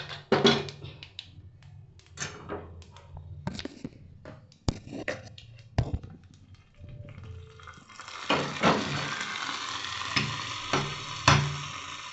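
Curry leaves tempering in hot oil in a pan give a crackling sizzle with scattered clinks of stirring, intermittent at first and then a steady, louder fry toward the end.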